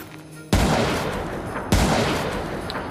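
Two loud, sharp gunshots in the video game Foreign Legion Buckets of Blood, spaced about a second apart, each cracking out and then trailing off in a long reverberant rumble.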